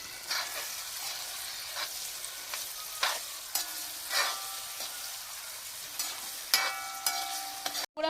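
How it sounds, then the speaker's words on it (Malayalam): Tomatoes fry and sizzle in a pan for Kerala-style tomato rasam, a continuous hiss broken by clattering stir strokes at irregular intervals, heard up close without speech. "നമുക്ക് തക്കാളി ഇടാം ഇച്ചിരി ഇളക്കി കൊടുക്കാം"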